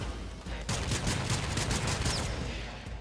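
Rapid gunfire from the Boar Prime shotgun in Warframe, a dense burst of repeated blasts that starts abruptly and runs steadily for a couple of seconds over constant game noise, with no talk.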